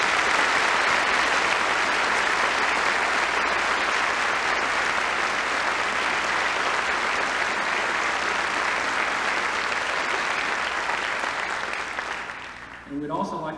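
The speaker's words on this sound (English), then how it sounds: "round of applause" Sustained audience applause at a 1990 AFRES Christmas event, loud and steady for roughly twelve seconds before tapering off, with a few scattered claps at the end.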